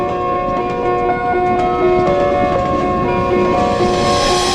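The interior of a moving train carries a steady rumbling drone with sustained tonal hums and whines, constant and fairly loud, with no voices.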